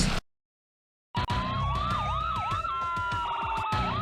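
A video game ambulance siren wails, rising and falling in repeated sweeps, then switches to a rapid yelp, loud and close over a rumbling engine, after a brief silent gap.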